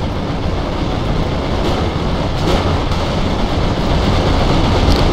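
Heavy rumbling rolling of a Wirbelwind anti-aircraft tank in the game Heroes and Generals, a steady, loud, continuous drone like a passing train, with no talk.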